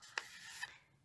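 Folded origami paper being smoothed down by hand while shaping a paper crane, giving two soft, close rasping brushes about half a second apart that fade to near silence.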